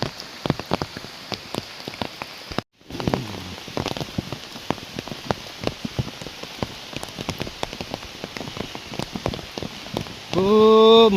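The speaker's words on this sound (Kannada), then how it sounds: "ಮಲೆನಾಡಿನಲ್ಲಿ ಮಳೆ ಮಳೆ ಮಳೆ" Heavy monsoon rain in Karnataka's Malnad region on the road to Yana pours down in a continuous dense patter of drops on surfaces, with a momentary dropout early on and a voice briefly heard at the end.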